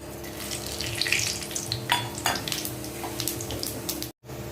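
Whole spices sizzling in hot oil: cumin seeds, black pepper, cloves, cinnamon and bay leaf for restaurant-style matar paneer, a steady close crackling fry with a brief drop to silence near the end.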